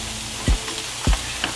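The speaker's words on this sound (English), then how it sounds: "So let me go ahead and pour my noodles in here." Dry spaghetti noodles are poured into a pot of boiling salted water with olive oil, giving two dull thumps over a steady bubbling hiss.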